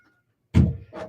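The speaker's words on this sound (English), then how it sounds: "Two people just walked in and just banged the door" A door banged shut as two people walk in, a sudden loud thump with a short rattling tail and a second softer knock just after, close by in a quiet room.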